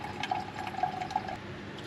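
Water poured into a Dutch oven holding half a cup of rice while cooking in a snowy truck camper, a soft, steady trickling splash heard close and alone for a couple of seconds.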